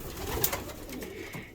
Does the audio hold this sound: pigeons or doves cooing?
yes